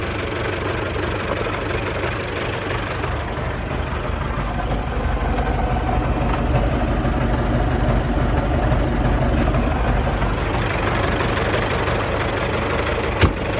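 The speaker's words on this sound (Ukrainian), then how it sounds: "Трактор на стартері." A Belarus MTZ tractor diesel engine runs steadily at idle, loud and close, with a continuous knocking diesel rumble throughout.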